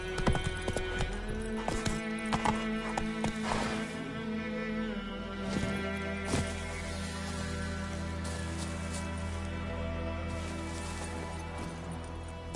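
Horse galloping in The Witcher 3, a steady rapid clip-clop of hooves that carries on throughout, with some louder hoof strikes and an occasional snort over continuous game background.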